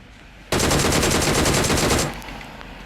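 Rapid automatic gunfire in a mobile squad shooter game, a dense burst of rattling shots for about a second and a half that cuts off into quieter game ambience.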